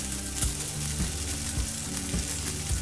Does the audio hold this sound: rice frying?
yes